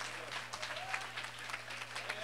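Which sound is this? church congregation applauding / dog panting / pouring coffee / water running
church congregation applauding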